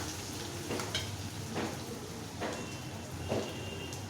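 Ginger and garlic fry in hot oil in a pan, a steady close sizzle with soft periodic scrapes of stirring every second or so, no talking.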